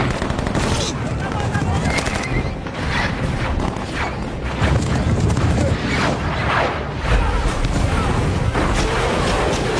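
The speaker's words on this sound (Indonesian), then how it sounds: "diikuti puluhan misil yang meluncur bagai kilat sampai menimbulkan ledakan yang hebat" War film battle scene: rapid bursts of machine-gun fire and heavy booming blasts from missile strikes overlap in a loud, chaotic barrage that continues throughout, with a voice-over speaking over the combat.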